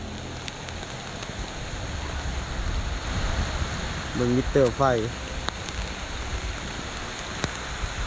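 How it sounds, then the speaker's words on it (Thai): Rain keeps falling during a flood in the town of Xepon, a steady, dense hiss that fills the whole scene while someone speaks briefly partway through. "ฝนก็ยังตกมันเรื่อย ๆ"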